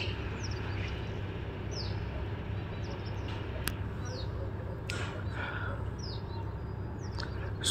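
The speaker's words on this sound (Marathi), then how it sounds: "सुमधुर असा चिमण्यांचा चिवचिवाट." Sparrows chirping at sunrise near a resort in Velha taluka, several quick thin tweets scattered over a steady low hum of background noise, fairly faint and at a moderate distance.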